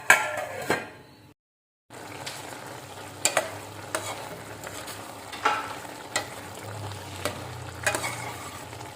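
A spoon stirs ridge gourd and drumstick curry in a pan over a low flame, giving sharp scraping clinks every second or two over a soft, steady sizzle, with a brief silent gap early on.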